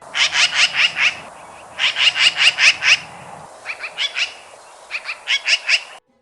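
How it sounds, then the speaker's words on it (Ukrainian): A magpie's harsh rattling chatter, delivered in several rapid bursts of rasping notes with short pauses between, close and loud. "Про сороку кажуть, що вона скрикоче."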